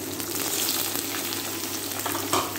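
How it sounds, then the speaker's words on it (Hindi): Chopped onions fry in a pan for a bitter gourd dish, a dense, even hiss of oil with faint scattered crackles and one brief knock near the end. "अब ये प्याज हमें फ्राई करने होंगे"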